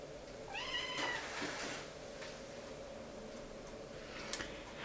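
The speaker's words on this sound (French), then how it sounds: "Elle miaule comme ça et je comprends pas." A female house cat meows indoors at home, a quick run of rising, insistent cries in the first second, followed by a low steady room hum with a faint click near the end.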